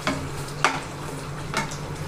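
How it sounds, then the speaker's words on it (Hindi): Spice masala being fried in a pan for a spicy bhuna fish dish, a low continuous sizzle with three sharper stirring scrapes spaced across the clip, close by. "अब मैं एक तरफ मसाला भुना रही हूँ"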